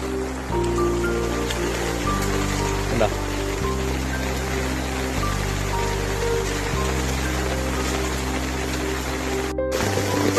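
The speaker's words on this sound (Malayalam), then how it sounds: "കണ്ട, ഒരു രക്ഷയില്ലാത്ത മഴയാ" Heavy rain pouring over a field lined with trees, a continuous loud hiss with a low steady hum beneath, and someone talking briefly over it.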